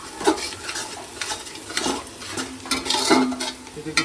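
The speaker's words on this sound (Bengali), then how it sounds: "এটা পেঁয়াজটা ভাজছি মাংসের জন্য।" Onion frying in a pan for meat in a home kitchen, with a steady sizzle broken by repeated scraping stirs and a few pan knocks, close and fairly loud, with no talking.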